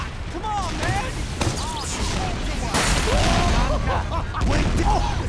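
Loud gunfire and booming shots during a control-point fight in a video game, with sharp bursts and a strong crack near the middle, under excited shouting voices throughout.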